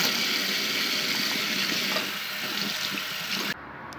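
Tap water runs steadily from a faucet in a continuous rushing hiss that drops in level near the end, with no voices.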